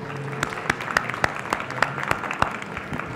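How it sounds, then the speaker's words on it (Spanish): Scattered applause from an audience at a political interview series launch in Argentina, with sharp individual claps standing out over a soft, thin patter, moderately distant. "un fuerte aplauso."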